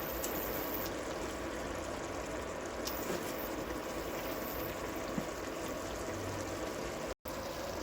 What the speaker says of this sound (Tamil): கிரேவி நல்லா கொதிச்சுட்டு இருக்கு.